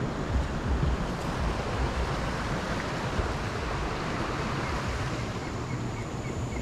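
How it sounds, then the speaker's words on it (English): Continuous rushing of river water near a clogged culvert, a steady broadband wash with some wind buffeting the microphone and no talking. "Yeah, look at this water flowing now."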